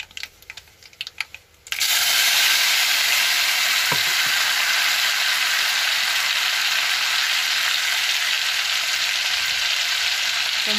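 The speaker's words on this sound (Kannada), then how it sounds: "ನಾನೀಗ ಟೊಮೊಟೊ ಹಾಕ್ತಾ ಇದ್ದೀನಿ" Chopped tomatoes hit hot oil in a seasoning tempering for capsicum gojju, bursting into a loud, steady frying sizzle after a few quiet opening seconds, with a faint stir partway through.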